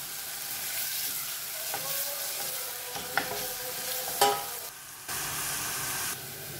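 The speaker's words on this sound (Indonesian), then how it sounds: "Tuangin minyak secukupnya. Masukkan bawang putih sama jahe tadi." Garlic and ginger sizzle steadily in hot oil in a home kitchen, a continuous close frying hiss broken by a few sharp scrapes and clinks of a utensil stirring the pan, with no talking.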